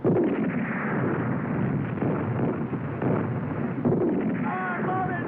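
Tank gunfire in a 1969 war film about the Battle of El Alamein, heavy muffled booms mixed with dense battle rumble and crackle, loud and continuous, with a brief voice near the end.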